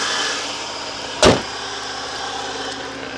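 The turbo engine of a 1991 Subaru Legacy with its timing out of adjustment runs with a steady, noisy hum, broken once by a sharp, brief thump.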